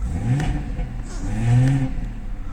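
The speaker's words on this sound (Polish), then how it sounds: "Będziemy gazować, bo silnik zimny" A cold BMW M4 engine revs in bursts, the pitch sweeping up and falling back twice, loud and close, with a faint voice briefly underneath.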